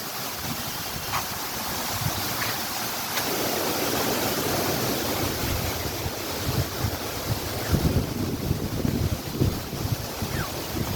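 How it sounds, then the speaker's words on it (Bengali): Wind roars steadily and grows gustier toward the end, buffeting the microphone with rumbling thumps; no voices. "সুন্দর বাতাস না ভাই"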